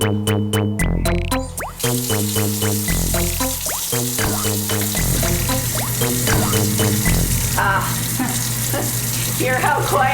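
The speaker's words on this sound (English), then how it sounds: "You should always turn the water on first." Water runs loud and steady from a kitchen sink tap, with a ringing, tonal whine running through it throughout, at a sink with a newly repaired garbage disposal.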